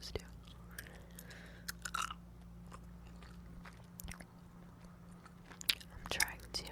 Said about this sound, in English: enough just plain gum chewing and whispering